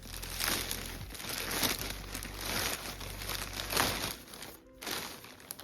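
Crinkly plastic packaging on a bag of yarn rustles and crumples steadily for several seconds as it is opened, close by, with a brief pause near the end before more crinkling.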